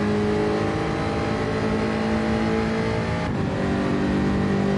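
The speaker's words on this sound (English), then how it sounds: "I love the sound of this car. It's definitely the best sounding Gr3 car." A Gr3 race car engine in the Gran Turismo video game, revving hard and steadily at high pitch throughout, with a brief gear-change dip partway through, loud and close with no talking.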